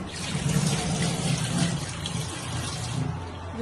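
Fish is washed under a running kitchen tap, a steady close rush of water with splashy, uneven spatter as the pieces are handled, no talk.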